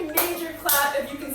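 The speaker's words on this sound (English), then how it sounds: "give yourself a major clap if you can" A person claps their hands at the end of a no-weights arm workout, with two bursts of clapping at close range.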